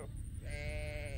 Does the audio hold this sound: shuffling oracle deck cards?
no